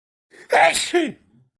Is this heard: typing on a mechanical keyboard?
no